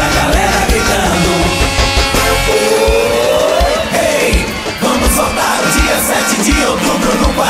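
Crowd noise from an election car rally runs loud and continuous, with yelling voices mixed with engine sound, music and a whining tone.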